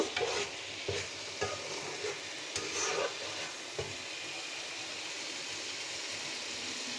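Small fish fry in cooked spice paste for a home-style fish curry, giving a quiet, steady hiss. A few light clicks of stirring come early, then the sizzle continues alone.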